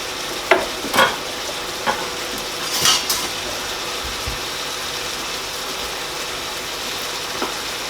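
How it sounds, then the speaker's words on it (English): Onions sautéing and being stirred in a pot, heard as a steady low sizzle with a few scraping spoon strokes near the start and faint clinks later, close and without speech. "all we're going to do is brown off and just saute the onions until they've gone transparent"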